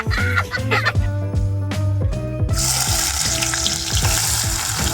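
Momos frying in a pan on a wood-fired clay stove, a steady close sizzle that swells into a bright hiss midway, with a clucking chicken and other farmyard fowl calling loudly over it throughout.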